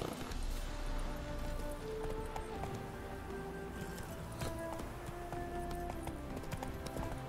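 Rhythmic hoofbeats of a horse galloping steadily throughout in The Witcher 3, clip-clopping beneath game music with sustained tones and occasional clanks.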